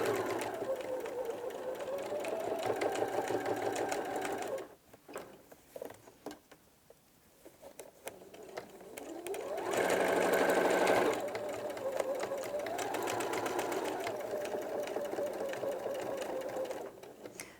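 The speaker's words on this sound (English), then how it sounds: "don't worry about your sewing machine, because this is a loose weave with a Hessian" A sewing machine stitches loose-weave hessian in steady whirring runs, pausing briefly in the middle before starting up again and running on.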